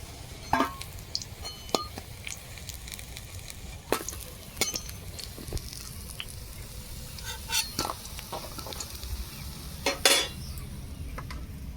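Pumpkin flower fritters frying in hot oil, with a constant soft sizzle under repeated sharp clinks and scrapes of a utensil against the pan.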